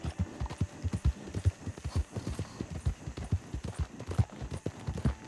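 Horse hooves clip-clop in a steady, rhythmic trot as a rider travels through a video game world, close and clear with faint ambient hum beneath.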